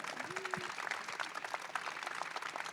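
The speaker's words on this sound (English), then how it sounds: "Let's give a round of applause to this wonderful panel" Audience applause after a panel at an intern event's main stage session, a faint, dense patter of many hands clapping at a distance.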